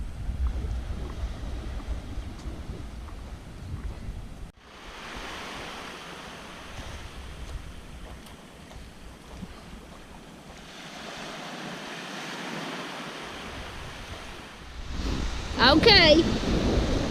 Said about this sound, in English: Shall we go down to the beach, Bernard? It is a fabulous beach.